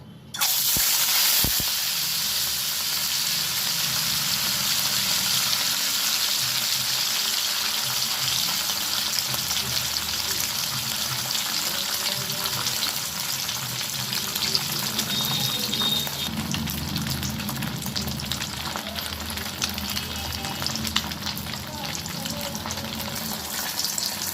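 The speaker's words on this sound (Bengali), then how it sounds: "তেলটা ভালো করে গরম করে নিলাম, নিয়ে এবারে মাছগুলো আমি ভেজে নেব।" Rohu fish frying in hot oil in a wok, a loud, dense, steady sizzle that holds without pause throughout, with no talking.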